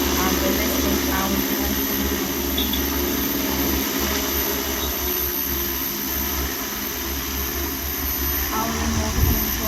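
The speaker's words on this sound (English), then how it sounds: "We are testing the drone before shipment" A 16-litre agricultural sprayer drone flies during a pre-shipment test, its rotors giving a steady, loud buzzing drone throughout, while someone speaks over it.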